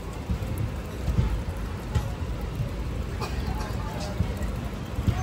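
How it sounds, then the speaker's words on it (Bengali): Rain falls steadily at Rajkot Junction railway station as a train pulls in, a continuous close patter with faint voices mixed into the background. "আর বৃষ্টি শুরু হয়ে গেছে।"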